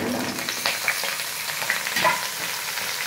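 Rinsed, still-wet pointed gourd and potato pieces go into a hot pan of cumin seeds fried in a little oil. A crackling sizzle rises with a few sharp pops and spatters, and faint stirring noises run underneath.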